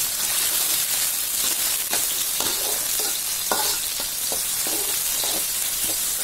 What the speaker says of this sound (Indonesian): semua bumbu secara bersamaan kita tumis di dalam pan dengan sedikit minyak sayur